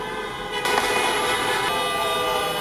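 Protest trucks in Ottawa blaring their horns, a dense layered chorus of sustained tonal honks that swells louder partway through and holds steady, loud and continuous with no talking.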